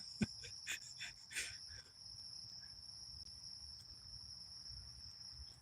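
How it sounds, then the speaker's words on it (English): Crickets and frogs chirp outdoors at night in a yard, a steady high shrill trill running throughout, with a few sharp clicks and brief knocks near the start and a low rumble underneath. "Listen to the crickets. Crickets and the frogs in the background."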